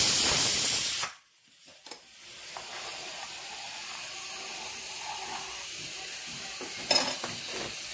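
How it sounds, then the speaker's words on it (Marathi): Tempering for Marathi amti dal hits the pan with a loud, sharp sizzle that cuts off after about a second, leaving a low, steady frying hiss and a brief flare of sizzling near the end. "आणि बघा अशा पद्धतीने मी दिलेली आहे म्हणजे मस्त अशी आमटीला फोडणी"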